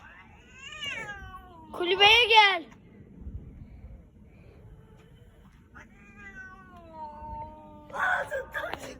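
Two cats yowl and caterwaul in drawn-out, wavering cries, with sharp squalling bursts between them, while people talk quietly nearby.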